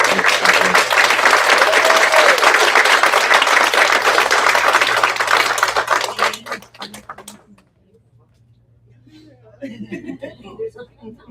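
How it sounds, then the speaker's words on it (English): Loud, sustained audience applause for the PTA president at a school district board meeting, dense clapping with some chuckles that stops abruptly, followed by a short pause and then a voice speaking. "Please give one more big heartfelt round of applause for our amazing PTA president."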